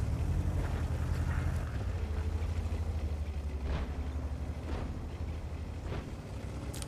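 T-54 lightweight tank engine in a World of Tanks-style video game, a low steady droning rumble with a few faint clanks and knocks over the top.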